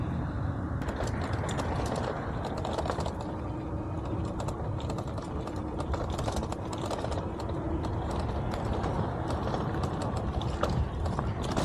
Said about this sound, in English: We're gonna gun it, guys, to see how this bike does.